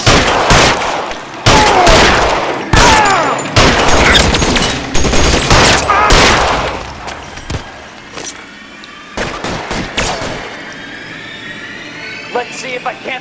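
Gunfire in the PS5 video game L.A. Noire Remastered: loud, rapid shot bursts and volleys crack out in clusters, separated by short lulls, with voices talking between the shots.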